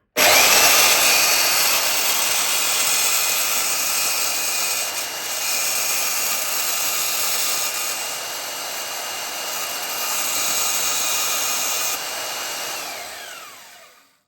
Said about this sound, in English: we just try to saw as straight as we can along that scribe line